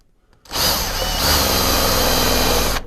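A power drill drives a self-tapping screw through two layers of aluminum while a window valance is fitted on a GMC motorhome: a loud, close, continuous whine starting abruptly after a short pause and running steadily until it cuts off.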